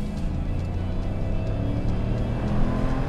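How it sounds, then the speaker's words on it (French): A RAM 1500 pickup's engine runs under load as the automatic gearbox works through its gears, a fairly faint, continuous low drone heard from inside the cab. "La boîte, tu t'entends qu'elle prend ses tours et d'un coup, elle passe tes rapports les uns après les autres."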